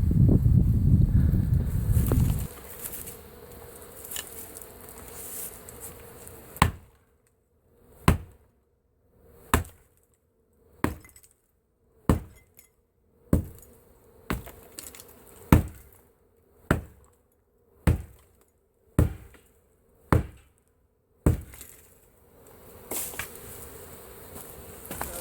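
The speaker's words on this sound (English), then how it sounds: "So I'm about to start smashing through and getting right to them." Heavy blows smash through a cinder block garage wall to reach a honeybee colony, a dozen loud, sharp impacts at a steady rhythm of about one per second, following a dense, buzzing swarm of bees.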